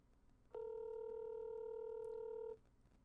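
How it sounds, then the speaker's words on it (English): A single telephone ringing tone sounds while a call is placed, one steady electronic pure-toned buzz lasting about two seconds, clear and fairly loud over a quiet line, then cutting off. "The phone is ringing."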